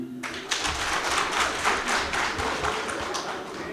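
Audience at a political meeting of local elected officials in Parakou, Benin, bursting into steady, close applause after a brief pause, a dense patter of many hands clapping that runs to the end.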